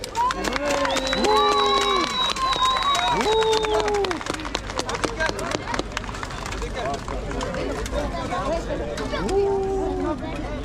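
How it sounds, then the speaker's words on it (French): A crowd applauds and cheers at a medieval tournament in the lists, steady clapping mixed with a babble of voices and a few shouts, loud and continuous, with speech heard over it. "un maximum d'applaudissements s'il vous plaît"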